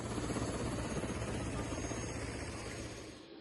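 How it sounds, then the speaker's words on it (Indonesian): An evacuation helicopter in Mimika, Papua, one of four used, its rotor beating in a loud, steady throbbing chop close by that holds for a few seconds before cutting off. "Evakuasi menggunakan 4 helikopter"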